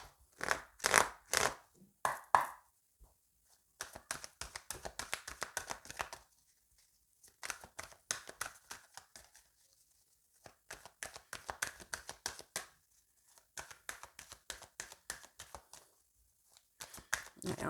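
Tarot cards cut and shuffled by hand: repeated bursts of soft riffling and slapping at close range, in short clusters separated by brief pauses.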